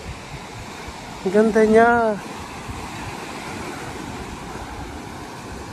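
Sea waves and a river at Puerto Princesa: a steady broad rush of water and surf running throughout, with a brief spoken remark in the middle.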